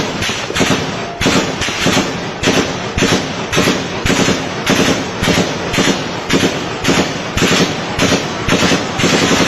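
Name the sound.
army machine gun firing in Islamabad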